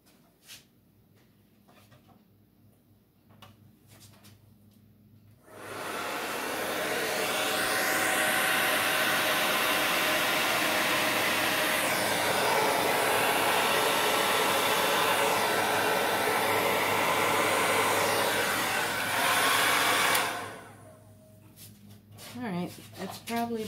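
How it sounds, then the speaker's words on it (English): A hair dryer blowing on metallic paint poured over an 11x14 canvas, switching on after a quiet stretch, then roaring as a loud, steady whoosh for about fifteen seconds before cutting off, with faint rustling at either end. "which is the blow dryer one more time to try and blend these two"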